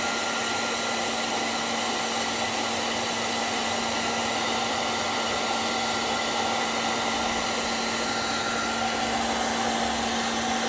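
A heat gun blows hot air onto heat-shrink tubing over a wire connection during a water cooler repair. The result is a continuous, steady, loud blowing whoosh with no change in pitch and no talking.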